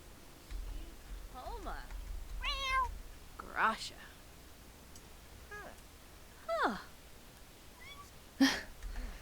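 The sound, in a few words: cat meowing in The Sims 4 video game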